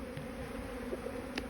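Honey bees buzz steadily around a newly emerged queen bee at the hive, a continuous close drone with a few brief louder passes.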